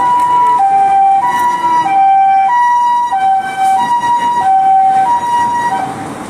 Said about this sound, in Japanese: あ、救急車来た。